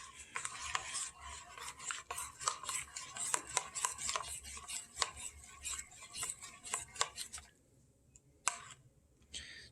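A chunk of butter being stirred in a bowl with a stirring utensil, producing a busy run of scraping clicks and knocks for about seven seconds, then a near-silent pause with one last tap.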